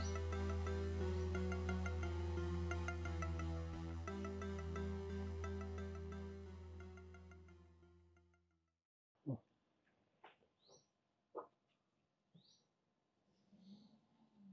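A phone ringtone plays loud and melodic for about eight seconds, then stops, leaving faint scattered clicks and quiet sounds.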